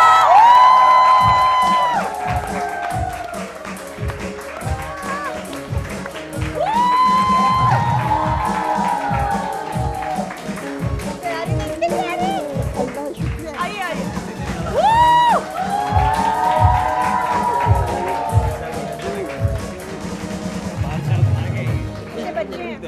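Studio audience on a Pakistani weekend talk show breaking into loud cheering, whoops and applause in repeated waves, with a host's voice and music stings rising over the crowd.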